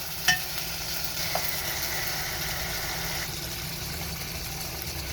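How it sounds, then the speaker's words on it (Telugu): Eggplant chutney with tomato and tamarind being stirred in a pan, giving a steady low frying hiss with faint scraping and a brief clink near the start, no talking. "2 నిమిషాల సేపు కలుపుదాం."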